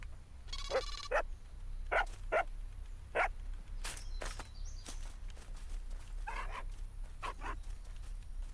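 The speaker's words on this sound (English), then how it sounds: "Let's feed the little doggies right here and see how they feel." Dogs bark in the ASKA survival game. Several short, sharp barks and yips come in irregular bursts, some in quick pairs, over a quiet low hum in the background.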